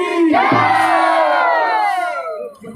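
A large crowd at a birthday festival for yoga guru Prabhu Ram Lal loudly shouts a praise chant in unison, one long sustained roaring cry that swells and then fades.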